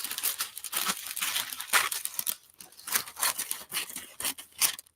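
Sheets of tissue paper are cut for collage, a close series of crisp, irregular snipping and crinkling sounds with brief pauses between strokes.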